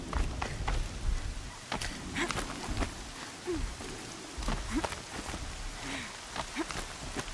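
Steady rain patters over a soft hiss in Horizon Zero Dawn, with scattered sharper drops and occasional thuds breaking through at low volume.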